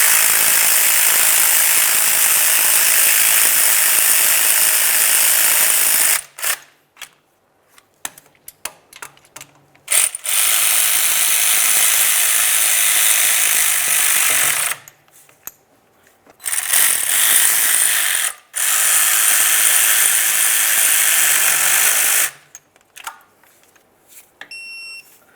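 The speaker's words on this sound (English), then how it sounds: "Once you have each of them started, snug them up and then torque them to 18 foot-pounds." A ratchet snugs up the starter mounting bolts on a 2003-2010 Mercury Grand Marquis, loud close clicking in several long sustained runs separated by brief pauses.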